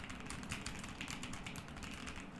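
Fast, continuous typing on an ordinary Dell computer keyboard, a dense run of light plastic key clacks at close range with no speech.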